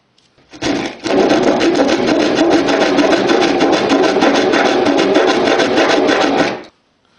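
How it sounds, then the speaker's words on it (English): A round file rasps steadily against a drilled hole in a metal model railroad track piece in rapid, continuous back-and-forth strokes, close and loud, then stops abruptly. "I'm going to open the hole out in the other direction with a round file"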